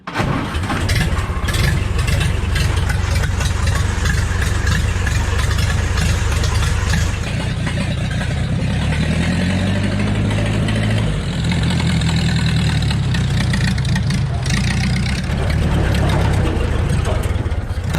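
A Ford Model A engine idles steadily with the spark advance turned up on a cold 40-degree day, a continuous loud low rumble throughout with a brief voice near the end.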